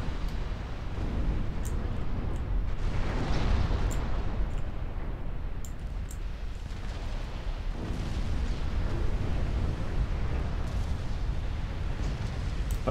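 Heavy cruiser guns fire at close range on battleships in a naval warfare game, a continuous roar of deep booming salvos and rumbling blasts that overlap without pause, loud and dense throughout.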